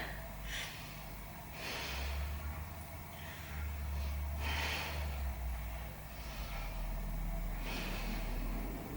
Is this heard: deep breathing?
yes